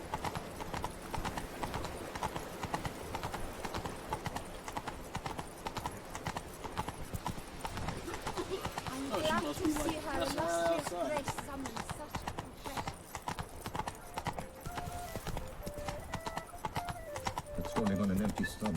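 Horse hooves clip-clopping in The Witcher 3: Blood and Wine, a steady, continuous rhythm of hoof beats on ground running the whole time beneath talking voices.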